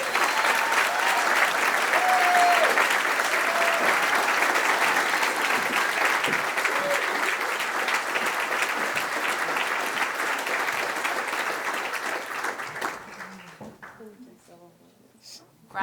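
Sustained audience applause at an awards ceremony, dense steady clapping from a large crowd that holds for over twelve seconds before fading out.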